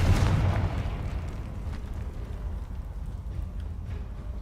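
A Confringo fire spell explodes in the Hogwarts Legacy video game, a single deep boom that bursts at the start and then rumbles and fades over a few seconds.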